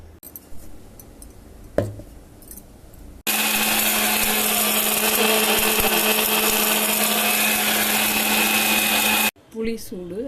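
Mixie grinding roasted dried red chillies and curry leaves into powder, a loud steady whirring motor running for about six seconds, starting and stopping abruptly, with faint kitchen clatter and talk around it.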